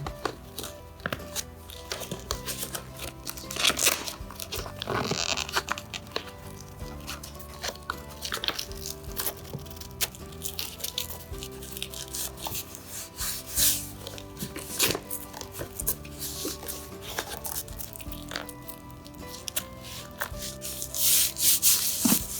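Custom seat cover corners are fitted onto a 2012 Polaris RZR seat with steady close rubbing, tugging and scraping of fabric, broken by sharp snaps and thumps and carrying on without talk.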